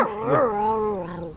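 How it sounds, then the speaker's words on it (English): A dog gives a single short, close whining growl-bark of about a second and a half, rising and then holding a wavering tone before fading out. "What was that bark for? Or growl or whatever you want to call it."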